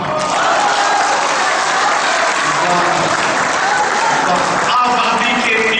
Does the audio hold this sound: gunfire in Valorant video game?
no